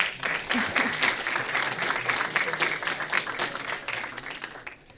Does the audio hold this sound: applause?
yes